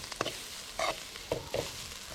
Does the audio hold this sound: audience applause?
no